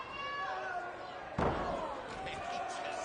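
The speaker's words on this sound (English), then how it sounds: "He just slammed him down to the mat." Pro wrestler body-slamming an opponent onto the mat at a 2003 NWA TNA match, one sharp thudding impact midway through, set against steady crowd noise and commentary.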